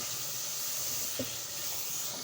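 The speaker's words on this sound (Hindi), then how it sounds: "थोड़ा सा भून लेंगे इसको।" Vegetables and chillies frying in a pan for a sabzi or salan give a steady, soft sizzling hiss that runs unbroken, with a faint brief clink partway through.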